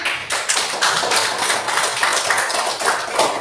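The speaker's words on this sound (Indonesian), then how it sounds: "Tepuk tangan" A school class applauds a student group, giving a steady burst of brisk, dense handclaps in a room that holds evenly loud throughout.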